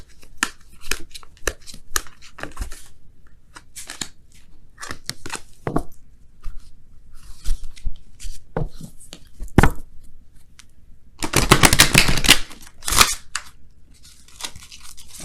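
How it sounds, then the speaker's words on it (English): Tarot cards are shuffled in a series of soft flicks and riffles, with a louder burst of rapid riffling near the end, close and otherwise quiet. "I just want to do a quick little shuffle here."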